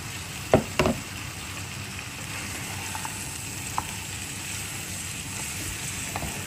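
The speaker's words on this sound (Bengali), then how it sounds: "চিংড়িটাকে হালকা বেজে নিব" Shrimp sear in a pan with turmeric and coriander powder, a constant close sizzle broken by a couple of sharp clinks early and a few faint taps afterward.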